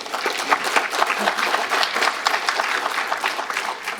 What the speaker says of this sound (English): let's give another big round of applause for all the speakers